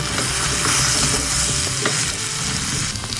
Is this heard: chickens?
no